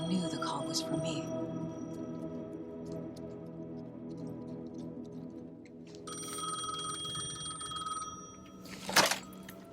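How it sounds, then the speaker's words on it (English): A payphone rings in the video game Alan Wake 2, with repeated bright ring bursts over a low ambient drone, and a louder crash or hit near the end. "The payphone was ringing."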